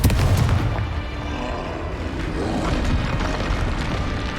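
Repeated Confringo spell blasts from Hogwarts Legacy boom loud and close, rumbling explosions running together into a dense, continuous roar with no talking.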